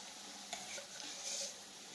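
A spoon stirs and mixes a dry pigeon pea curry in a pan, giving soft scraping strokes and light taps over a faint sizzle. The sound is close and quiet, with no speech.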